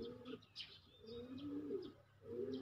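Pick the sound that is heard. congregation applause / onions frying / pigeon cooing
pigeon cooing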